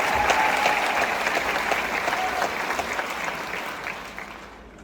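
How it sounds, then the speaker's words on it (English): Crowd applause for police officers at a gathering on mental health crisis response, a full steady round of clapping that gradually eases toward the end, heard at moderate distance without speech over it. "Hey, can we have a round of applause for our officers?"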